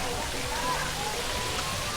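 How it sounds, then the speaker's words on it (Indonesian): Steady midday rain falling outdoors in a village, a dense continuous hiss, with someone talking over it. "Kondisi siang ini memang masih turun hujan."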